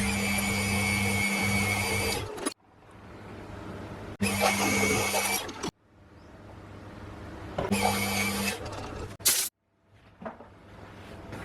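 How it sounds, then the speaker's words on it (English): A drill whines in three loud bursts of a couple of seconds each, drilling a pin hole in a metal crankshaft part of a model Webster engine, with quiet pauses between, followed by a short final burst. "First thing I need to do is drill a hole here for the pin for the crankshaft."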